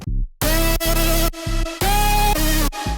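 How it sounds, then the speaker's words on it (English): Loud drum and bass drop with distorted bass stabs and sustained chord tones layered on top, punchy low end and bright harmonics, no voices. "But now with chords, it sounds pretty cool."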